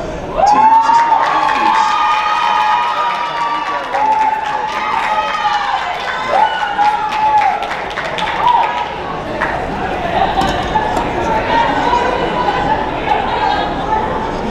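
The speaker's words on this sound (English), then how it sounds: "You guys didn't cheer for me like that during the season." A crowd at a high school spring sports awards night cheers and shouts loudly, with excited children's yells and chatter rising in waves throughout, close and lively, while voices mix in.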